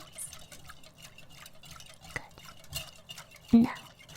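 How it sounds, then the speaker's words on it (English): Coconut mixture being stirred into eggs in a bowl, a soft, quiet scraping and sloshing of liquid that runs steadily under a faint background, with one brief louder clink near the end. "Stir, stir, stir."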